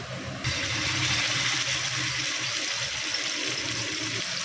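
Sankara fish drop into hot oil, setting off a loud, steady, close sizzle that starts abruptly after a brief quieter moment and holds without letup.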